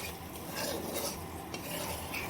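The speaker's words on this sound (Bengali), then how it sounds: "দইটা সমস্ত মশলার সঙ্গে খুব ভালোভাবে নেড়ে চেড়ে মিশিয়ে নেব" Yogurt is stirred into cooked spices for paneer masala in a pan with the gas off, a close, steady wet scraping with a faint lingering sizzle.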